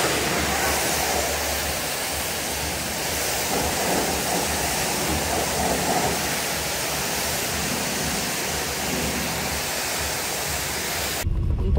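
Water sprays over a car during a rinse at a country house, a steady loud hiss of jetting water that runs without pause and cuts off abruptly at the very end.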